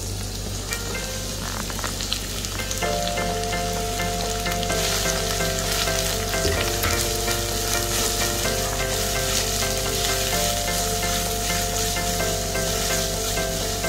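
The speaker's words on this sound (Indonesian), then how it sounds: "di bekas minyak tadi kita sekarang bisa menumis bumbu-bumbu yang sudah dicincang-cincang ya." Chopped garlic, shallots, bird's eye chilies and large red chilies sauté in leftover oil with a dense, continuous sizzle and crackle, with a faint tonal hum running underneath.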